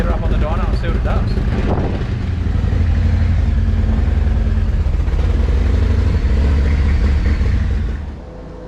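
Harley-Davidson Lowrider S with a Stage 2 117ci V-twin and a Screamin Eagle 2-into-1 exhaust runs on a dyno, giving a steady, deep, fairly quiet rumble that holds for several seconds before easing off near the end.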